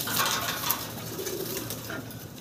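Grey barless German Beauty Homer pigeons coo softly in a noisy loft, with low murmuring calls under steady background hiss.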